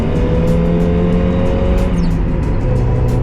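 A sports car engine pulls hard uphill in second gear, a loud, steady droning note heard from inside the car with constant road and wind rumble and no talking.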